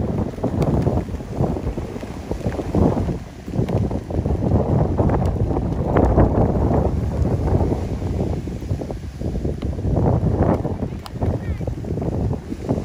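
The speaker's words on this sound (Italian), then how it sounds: "una clip tradizionale che ci fa sentire quanto sia" Strong, gusty wind roars and buffets steadily for the whole stretch by a rough sea at Numana, Italy, with a low rumbling texture of an exposed seaside spot.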